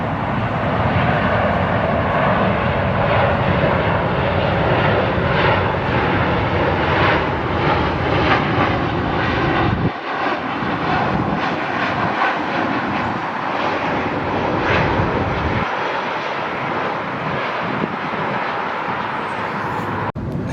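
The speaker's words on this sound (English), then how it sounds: "Here comes a plane that we called the RJ Killer. It's Delta 1469." A Delta Airbus A220-300 jet at LAX roars past, loud and sustained as a broad engine rush that changes tone partway through, staying heavy to the end.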